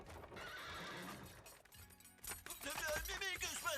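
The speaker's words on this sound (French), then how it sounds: "Arrêtez les chevaux!" Carriage horses in an animated film clatter to a halt, then a loud, wavering neigh breaks out near the end, with hooves and clanking harness underneath and brief voices.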